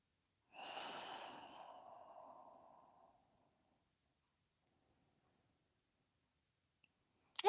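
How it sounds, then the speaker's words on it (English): A single soft nasal exhalation during a yoga stretch, close and quiet, trailing off over a couple of seconds, then silence before a brief click at the end. "breathing through your nose"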